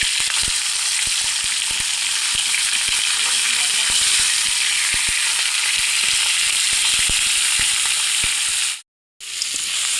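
Fish head fries in oil in a pan with a loud, continuous crackling sizzle that fills the whole stretch, dense and close, broken once by a short near-silent gap toward the end.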